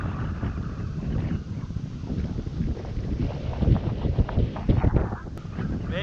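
Strong wind roars and buffets steadily against a fishing boat out on the water, with muffled thumps and rumbling throughout.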